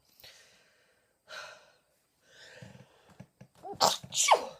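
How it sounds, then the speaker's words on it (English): Several sneezes come in bursts, the last two loud and close together, after a few softer breathy sounds and sniffs; no one speaks. "I apologize for all the sneezing."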